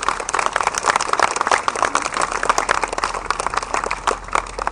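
An outdoor crowd at the inauguration of the Croix Blanche bridge applauds the workers who built it, a steady, dense wash of clapping that holds at an even loudness throughout.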